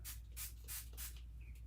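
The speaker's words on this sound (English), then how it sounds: "is spray water" Several short hissing bursts from a hand spray bottle misting water onto paper for a coffee craft, close up and evenly spaced, with soft rubbing sounds between them.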